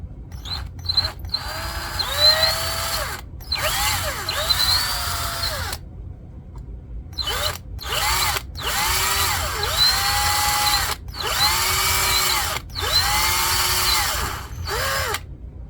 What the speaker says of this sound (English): try and drill those out